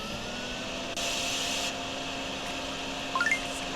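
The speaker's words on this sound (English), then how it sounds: "We can vacuum this up out of the front yard." A vacuum sucks up pooled floodwater in a front yard in DrainSim, a steady hissing drone that surges louder for a moment, with quick rising chirps near the end.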